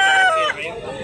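A bullstag fighting rooster, 18 months old, gives one loud, close crow that rises and then tails off. Background noise sits faintly underneath.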